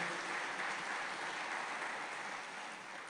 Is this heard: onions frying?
no